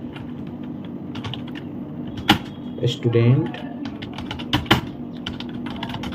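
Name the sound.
typing on a computer keyboard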